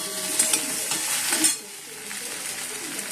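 Okra and onion sizzle in a pan with a spatula scraping and stirring through the first half, then the frying settles into a steadier, quieter hiss.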